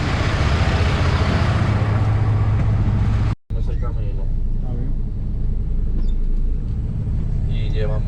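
A semi truck hauling a container pulls out of the yard, a loud steady engine rumble and road noise from the cab, briefly cutting out midway, with faint voices in the background.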